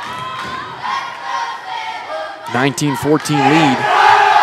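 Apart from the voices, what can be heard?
football team cheering on volleyball team in gym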